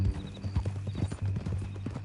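A horse in Red Dead Redemption 2 clip-clops along in a quick, steady rhythm with a short whinny, close by, over a low drone.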